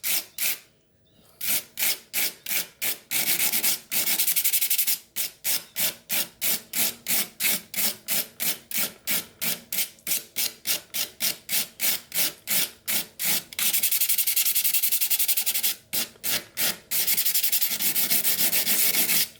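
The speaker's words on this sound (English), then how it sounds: "When you're sharpening the knife, you can actually go both ways." A whittling knife rubbed back and forth against an abrasive sharpening surface, giving loud, close, rhythmic scraping strokes in a fast steady series, with a few brief pauses and longer continuous rubs near the end.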